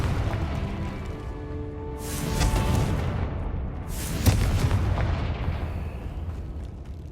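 Confringo explosive spells go off in Hogwarts Legacy, two heavy booming blasts a couple of seconds apart, each a broad roaring burst over a low rumbling game background.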